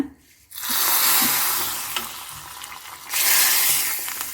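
Tempering of oil, mustard seeds, peanuts, curry leaves, asafoetida and chilli for temple-style huli sizzles loudly after a quiet start, a steady hissing fry that swells again near the end, alone with no talk.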